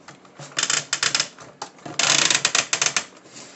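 The ratcheted joints of a Siege Titan-class Omega Supreme Transformers toy click rapidly in two close, loud bursts of sharp clicks separated by a brief pause.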